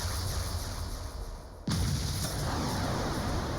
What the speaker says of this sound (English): Is that a long-range orbital cannon?